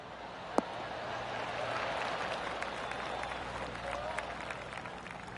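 Spectators applaud a near hole-in-one tee shot with a pitching wedge on a par 3 at a golf tournament, a broad steady wash of clapping from a crowd at moderate distance, lasting throughout with a sharp single clap near the start.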